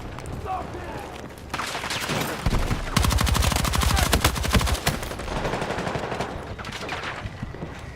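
Rapid automatic gunfire from a light machine gun in Battlefield 6 gameplay, loud sustained bursts dominating the middle of the clip amid other shots and explosions, with a voice talking over parts of it.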